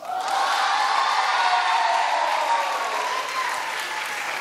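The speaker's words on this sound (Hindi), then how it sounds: "आवाज करके बताइए, चाहे ताली से बताइए, कुछ भी करके बताइए" A school audience claps and cheers for a girl's singing, a loud sustained wave of applause with scattered shouts that eases slightly toward the end.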